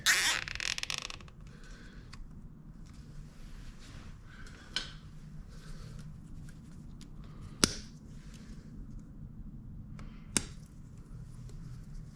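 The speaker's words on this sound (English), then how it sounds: "Grab another zip tie and some side cutters." A zip tie ratchets tight during work on a 2023 Yamaha YFZ450R SE ATV, a brief zipping rasp at the start followed by quiet handling noises and a few sharp clicks and snaps.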